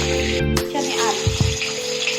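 Potatoes frying in a wok with bay leaf tempering for a rupchanda fish curry, a steady close sizzle with a brief clatter and some utensil sounds, while a person talks.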